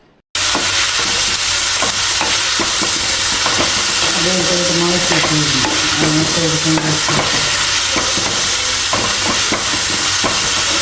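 Onions and shallots frying in a pan while being stirred, a loud continuous sizzle broken by repeated scraping and knocking of the spoon, with brief humming or a voice in the middle.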